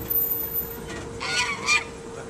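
A Chinese goose standing on a road gives several loud nasal honks, close by, over a steady background hum, with no talking while it calls.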